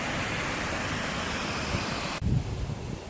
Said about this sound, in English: It's just a small creek that crashes over.